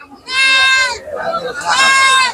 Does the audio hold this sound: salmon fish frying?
no